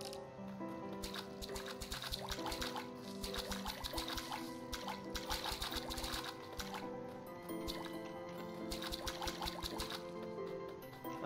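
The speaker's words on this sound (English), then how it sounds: "Oh, gotta water my plants." Plants being watered in the block-building farming game Staxel, a steady run of soft, wet, dripping splashes with a rhythmic pattering pulse under a constant bed of game music, with no talk.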